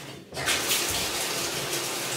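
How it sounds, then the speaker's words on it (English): Shower water starts running in a bathroom, a sudden steady hiss and spray of water that continues evenly after a brief quiet moment. "I'm about to hop in the shower."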